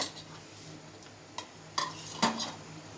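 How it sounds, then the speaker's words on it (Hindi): Peanut laddoo mixture being stirred with ghee, a few faint scraping and clinking strokes of a spoon against the pan standing out over quiet background, with no talking. "तो इसको जब आप मिक्स करते हो तो सारी चीज़ें कम्प्लीटली मिक्स हो जानी चाहिए।"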